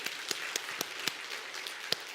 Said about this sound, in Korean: 그래 생각하시는 분들은 한번 박수 한번 쳐보세요.